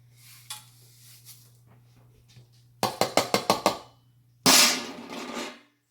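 Lye being stirred into liquid for homemade soap: a quick run of six sharp clinking taps against the container, then a louder, rough swirling scrape lasting about a second, with no voices.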